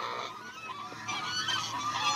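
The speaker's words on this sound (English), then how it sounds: "Geese out there." Geese honking in a loose overlapping chorus, a flock calling repeatedly from a moderate distance with no voices.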